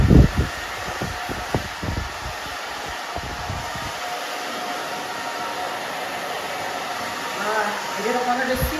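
A hair dryer blows steadily and loudly while hair is dried with a round brush, preceded by a few short handling knocks and brush sounds at the start.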